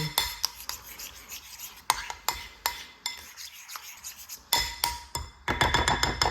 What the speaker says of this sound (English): a teaspoon of chopped chili. And then that's it. I'm just gonna mix that in.